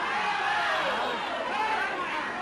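A television game-show studio audience murmurs and chatters, a busy babble of many voices filling the room at moderate level without any single clear speaker.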